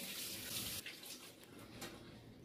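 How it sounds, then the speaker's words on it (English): Water runs from a kitchen tap for handwashing while chicken is being prepared. A steady close hiss of flow breaks into splashes as hands move under the stream. "So I'm going to wash my hands."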